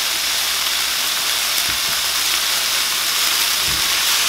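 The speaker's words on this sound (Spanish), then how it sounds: "vamos a dejar que se dore la carne muy bien doradita" Beef browns in a hot pan with a loud, steady sizzle and hiss that runs unbroken throughout, close and dense, with a couple of faint low knocks underneath.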